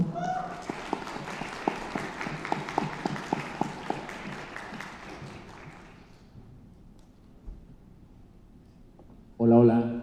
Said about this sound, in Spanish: Vamos a recibirlos con un aplauso, por favor.